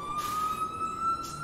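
An FDNY fire truck siren during a Manhattan hazmat response, a loud steady wail sounding alone and close, with no speech.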